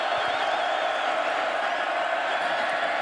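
A stadium crowd of over 50,000 at Jack Trice Stadium roars on third down in a Texas at Iowa State college football game, a loud, unbroken swell of cheering and whooping.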